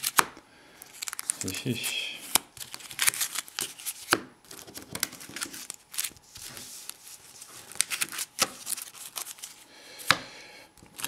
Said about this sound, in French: Je vais quand même brasser mon paquet.